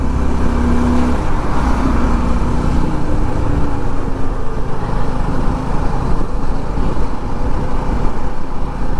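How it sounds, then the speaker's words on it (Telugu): A bus engine labours uphill on a rain-soaked forest ghat road between Nandyal and Giddaluru, a loud, continuous, strained drone with a low rumble heard from inside the vehicle, no talking. "బస్సు ఎక్కనికి తడబడుతుంది"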